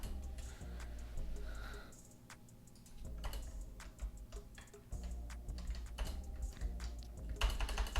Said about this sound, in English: it's so hard to type in this tiny box